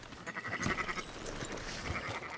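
Sheep bleating in the game Red Dead Redemption 2 at an auction yard, a few wavering bleats over a soft, busy background of ambient noise.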